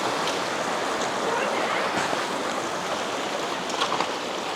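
Mountain creek water on the Jura Creek Trail in Kananaskis rushes steadily and close by, a continuous broadband wash with no pauses.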